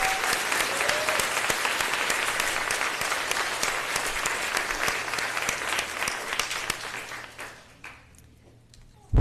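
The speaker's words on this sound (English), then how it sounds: "Please give her a huge round of applause." Audience applause at a 2017 school graduation ceremony at Denlow Public School: dense, steady clapping from a large crowd that holds for about eight seconds, then thins and fades.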